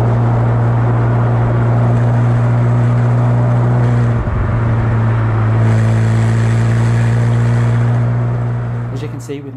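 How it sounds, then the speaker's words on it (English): Two Ferrari 458 sports cars driving together on a road drive out to Dumbleton Hall in the Cotswolds, giving a loud, steady engine drone with strong low harmonics, a brief dip midway, then rising again before easing off at the end. "a surprise drive out to Dumbleton Hall in the Cotswolds with two Ferrari 458s"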